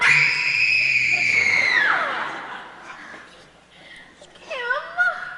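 A voice imitates the shrill fan scream for teen idol Conrad Birdie, a long piercing wail that slides downward and fades, followed by a shorter rising squeal; no words are spoken.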